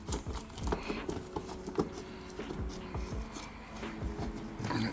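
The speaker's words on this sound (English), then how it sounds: "Let's get some of this tape off." Tape being pulled and peeled off a BMW 335i headlight during a DIY install, faint scratchy rasping and small crackles that come close-up in short, irregular strokes.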